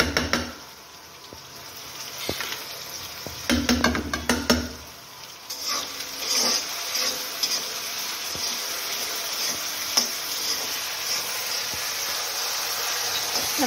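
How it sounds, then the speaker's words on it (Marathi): Potatoes frying in a pan for fried rice: a broad, steady sizzling hiss fills the space, broken early by some clattering utensil knocks and stirring. "आपल्या इकडे बटाटे फ्राय होत आलेले आहेत"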